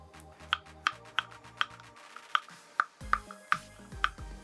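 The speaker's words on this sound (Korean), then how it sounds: "오늘은 납작하게 썰 겁니다" A knife slices peeled, soaked potatoes into flat pieces about 7–8 mm thick on a board, giving about ten crisp, evenly spaced cuts in a steady rhythm, close and moderately quiet, with no voices.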